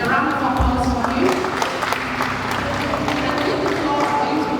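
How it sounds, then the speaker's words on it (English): Audience applause at a valedictory lecture, a dense wash of many hands clapping from a seated crowd, steady and fairly loud throughout, with some speech mixed faintly into the noise. "A round of applause for him."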